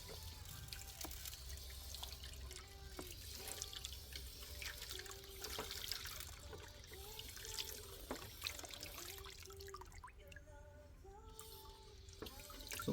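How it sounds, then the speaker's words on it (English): Water trickling and splashing as it rinses out a gold prospecting high banker outdoors, a quiet, continuous flow with small drips and gurgles close by. "Rinse everything out again."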